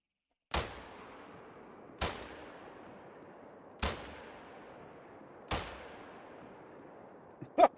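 Four single rifle shots ring out in a Call of the Wild hunting game, spaced about one and a half seconds apart, each a sharp loud crack with a fading echo, followed by faint clicks at the end.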